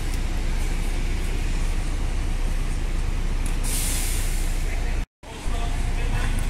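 Buses idle and pull in at a busy roadside stop during a rail line shutdown, with a loud hiss of air brakes and steady engine and traffic rumble throughout, broken by one brief dropout.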